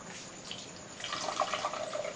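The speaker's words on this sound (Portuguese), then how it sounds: "Jogar a água agora, né?" Water poured into a blender jar for a fruit smoothie with acerola and milk, a soft, quiet trickle and splash that grows slightly stronger partway through, with no talking.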